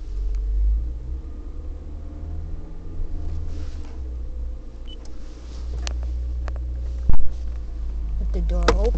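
Inside a 2008 Toyota Prius with the air conditioning running, a low, steady cabin rumble and fan hum continue throughout. A few faint clicks and brief knocks sit over the hum, with someone speaking quietly now and then.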